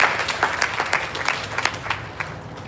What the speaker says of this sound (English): Can we give him a round of applause, please?